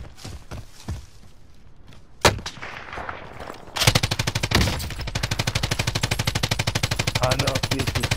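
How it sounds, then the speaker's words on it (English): Gunfire in Call of Duty: Modern Warfare Warzone, a few scattered single shots and then a long sustained rapid automatic burst firing close and loud until the end, with no talk. "It looks like they're shooting there."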